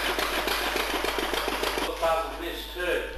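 A Fordson tractor engine with trembler coil ignition runs with a rapid, rhythmic pulsing chug for about two seconds, then a voice speaks over the fading engine noise.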